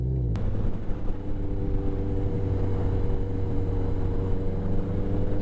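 Yamaha XS1100 motorcycle engine idling steadily during a clutch-in downshift attempt with a hanging, sticky clutch, a close, continuous low rumble with a brief click near the start.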